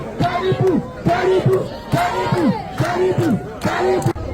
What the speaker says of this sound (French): c'est comme ça que nous voulons les applaudissements